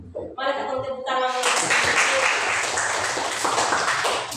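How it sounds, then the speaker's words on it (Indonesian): After a short spoken lead-in, a classroom of students bursts into steady, fairly close clapping that continues for about three seconds at moderate volume. "Mari kita tepuk tangan."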